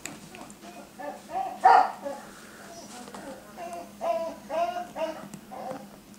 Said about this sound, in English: My dog wants inside.